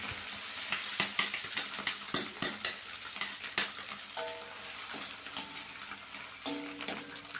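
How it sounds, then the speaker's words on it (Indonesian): Washed anchovies (ikan teri) fry in hot oil, giving a steady crackling sizzle broken by sharp scraping clicks of stirring in the pan, with occasional faint tonal clinks, no talk. "lalu saya goreng ikan teri yang udah kita cuci bersih tadi ya, digoreng sampai matang, sampai garing"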